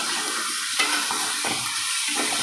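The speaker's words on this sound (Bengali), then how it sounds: "কাঁচামরিচটা দিয়ে দিলাম একটু এটা ভাজা হোক" Chili and onion frying in a pan, a steady close sizzle broken by a few soft stirring scrapes.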